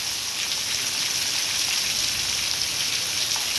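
Heavy nighttime rain in Amaniutuba, Ceará, with full gutters, a dense, constant hiss of downpour, loud and unbroken, with no voices.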